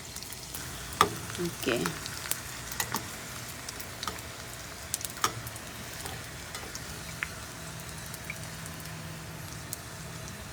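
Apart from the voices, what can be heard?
danggit (dried fish) frying in a pan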